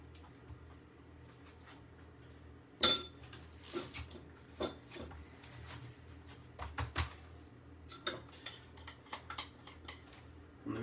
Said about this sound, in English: Just kind of work that in there with a spoon.